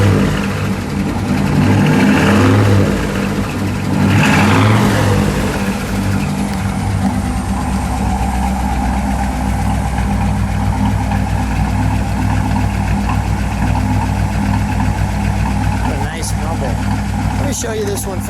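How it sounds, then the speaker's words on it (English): Supercharged 1957 Ford Fairlane 500 Skyliner F-code V8 revved a couple of times early on, then settling into a loud, steady, rumbling idle up close. "Go ahead, Ken, give it a rev."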